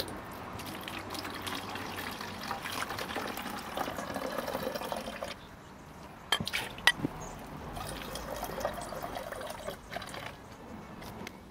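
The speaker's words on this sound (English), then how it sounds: "take your water and your vinegar and pour them into your bottle" Water and vinegar pour into a 2-liter plastic bottle, a close gurgling trickle that pauses midway, then a few knocks and more liquid sloshing.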